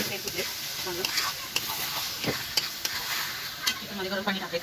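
Hot water hits chicken cooking in ghee in a pan, giving a crackling sizzle broken by scraping stirs and sharp spitting pops, with a voice faintly present in places.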